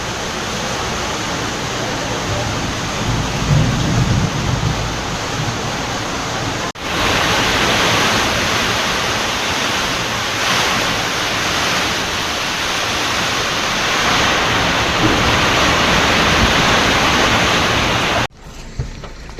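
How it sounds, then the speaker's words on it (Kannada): Heavy rain pours down in a steady, dense hiss that fills the whole scene without a break, loud and close, with no voices. "ಅಲ್ಲಿ ನೋಡಿದ್ರೆ ಮಳೆ ಹಾಕ್ಕೊಂಡು ಚಿಟ್ಟುತ್ತೈತೆ"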